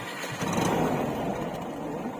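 A homemade vehicle powered by a TVS bike engine starts up and runs, a steady rough mid-pitched engine drone, close and fairly loud throughout.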